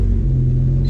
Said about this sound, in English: just leave the car warming up a little bit